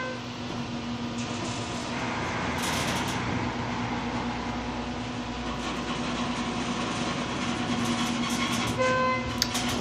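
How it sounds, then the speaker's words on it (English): A creaky Schindler 330A hydraulic elevator at a healthcare plaza runs with a steady, loud mechanical hum and rumble, while faint creaks and brief high squeals surface near the end. No one speaks. "This thing's the creakiest elevator I've ridden in a while."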